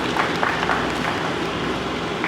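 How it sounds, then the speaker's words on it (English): In the Anambra State House of Assembly on Democracy Day, a crowd applauds for the state Governor with loud, continuous clapping that fills the room evenly for a couple of seconds. "let's put a round of applause for him, please"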